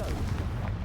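A Confringo fire spell blast goes off in Hogwarts Legacy, a brief, muffled booming burst heard at moderate level within the game's ambience.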